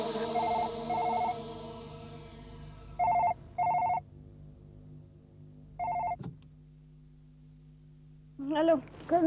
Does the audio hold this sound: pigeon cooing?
no